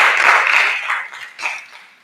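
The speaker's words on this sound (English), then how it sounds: "let's give them a round of applause for being our panelists today" A town-hall audience applauds its panelists, a dense burst of clapping from many hands that peaks early and then thins into scattered trailing claps.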